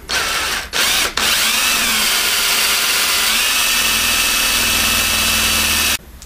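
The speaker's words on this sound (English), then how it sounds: "now I'm just going to drill it by hand" A loud, steady whine of a hand drill boring a hole into metal runs almost continuously, with two brief pauses early on and a stop at the end.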